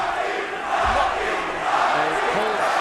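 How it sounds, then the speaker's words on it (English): A boxing arena crowd at the Lomachenko vs Rocky Martinez fight roars in a loud sustained wash of massed voices, swelling into a chant, with a commentator talking over it. "he pulls Rocky down as the crowd starts chanting Rocky"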